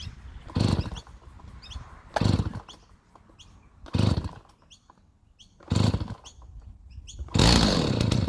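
A Stihl 029 chainsaw on choke fires in loud, close bursts, catching and dying five times in a row with short pauses between, ending in a longer sustained roar.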